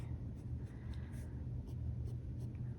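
Fine cypress nib of a Pens by Casey Tokubetsu fountain pen gliding across paper, a soft, faint scratching in short strokes over a low background hum, no voices.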